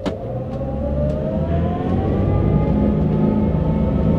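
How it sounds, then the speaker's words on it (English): The twin 370 hp Yanmar diesel engines of a Seaward 39 motor boat throttle up. A loud, steady rumble builds, and its tones rise gradually as the boat accelerates. "These 370 horsepower Yanmar diesels, they give a very good power to weight ratio for this boat."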